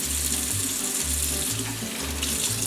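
Tap water running steadily into a cooking pan, a continuous splashing hiss with a low pulsing hum beneath it, close and fairly loud.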